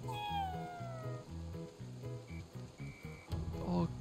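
A cat meows in the video game Ghostwire: Tokyo, a few short cries over looping game music with a voice talking underneath.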